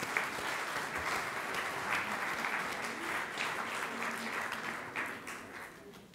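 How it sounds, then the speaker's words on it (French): Audience applause at a French conference session fills the whole span as steady, even clapping from a moderately sized crowd, tapering slightly toward the end. "On peut les applaudir."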